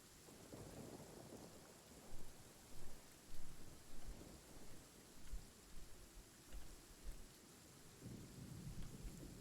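Rain falls steadily with several deep rolls of thunder rumbling through, loud bursts recurring every second or so over a continuous wet hiss, in a game setting.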